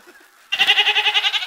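A goat bleats once in a long, loud, wavering call right up close, with no other sound around it, at a Betawi-style gathering.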